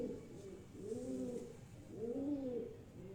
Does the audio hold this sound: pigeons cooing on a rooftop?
yes